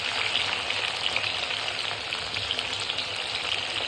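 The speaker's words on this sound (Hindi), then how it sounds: "भिंडी और गोभी को दोनों को एक साथ फ्राई कर लेंगे।" Okra and cauliflower frying together in hot oil for a kadhi, a dense, steady close sizzle that continues without break.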